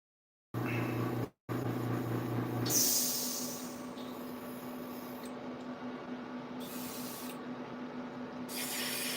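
Short bursts of hissing spray from a can, separated by pauses, over a steady low hum.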